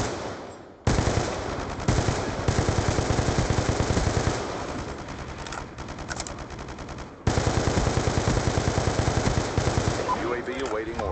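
A SCAR rifle in Black Ops 2 fires rapid automatic bursts through walls, loud and close, in two long strings separated by a short gap, with game effects mixed in.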